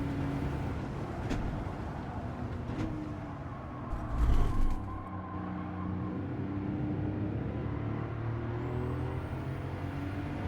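A race car engine in Gran Turismo runs flat out in fourth gear, a continuous droning roar with a brief louder burst partway through and a rising whine toward the end.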